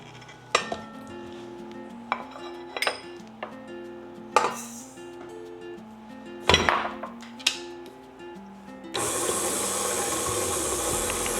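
A few clinks and knocks of bowls and utensils, then an electric mixer starts up near the end with a steady, loud whir, beating softened butter with sugar for a pumpkin crunch cake.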